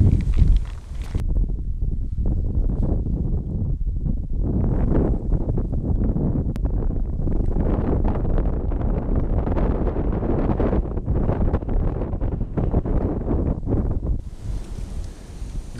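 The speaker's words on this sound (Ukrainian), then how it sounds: "Вітер здуває, вітер не дає комфортно ловити" Steady, loud wind buffeting a microphone outdoors by a river during winter fishing, a constant low roar with gusty rumble throughout and no talking.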